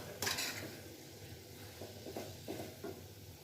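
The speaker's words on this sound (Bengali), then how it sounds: "এবারে দেবো এই চিকেন কিমা। ভালো করে এটা কষিয়ে নিতে হবে।" Chicken keema being stirred and fried in masala in a pan, with soft scraping and clinks of a spoon against the cookware over a low sizzle, fairly quiet and close.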